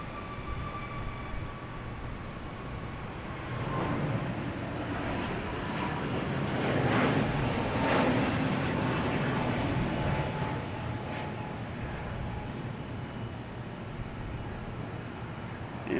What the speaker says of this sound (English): we got a JetBlue coming in. Sorry, United